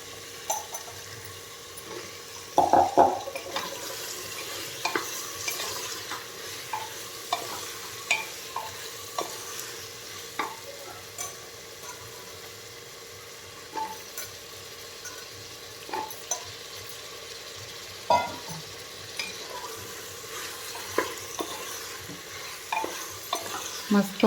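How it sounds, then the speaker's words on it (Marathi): Eggplant pieces stir-fry in oil for Karnataka-style vangi bhaat, a steady sizzle running throughout with repeated scraping and clattering stirs of the spatula against the pan at irregular intervals. "त्या वांग्याच्या फोडी टाकून घेतो"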